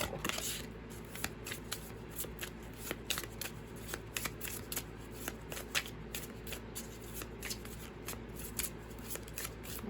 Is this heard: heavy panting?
no